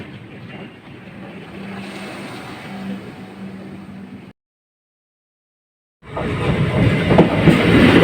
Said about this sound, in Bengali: একটা ট্রেন ঢুকে গেল